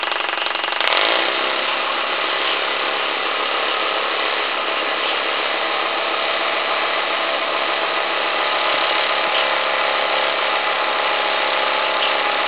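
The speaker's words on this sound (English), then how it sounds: "So hopefully, pretty quick that valve will turn the burner back on, and you can see how it operates." The burner of a vertical fire tube live steam plant built for a Diana launch roars steadily and loudly, a constant dense rush with a faint mechanical ticking and no voices.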